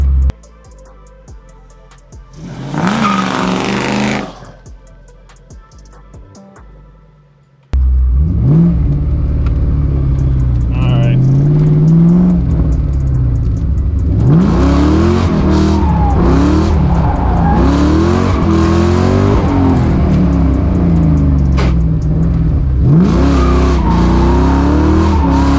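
A Ford Mustang with an Aviator engine swap revs hard and drifts, with loud sliding tire squeal over a roaring, rising and falling engine after a quieter opening burst of revving.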